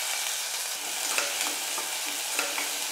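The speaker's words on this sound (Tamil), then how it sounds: "வெங்காயம் நல்லா வதங்கட்டும்." Chopped onion sautés in hot oil with mustard seeds and cumin, giving a steady close sizzle broken by occasional soft stirring scrapes.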